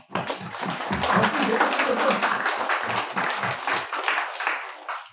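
A congregation in a Korean church claps together during a Sunday sermon, a dense, steady burst of applause lasting about five seconds before trailing off.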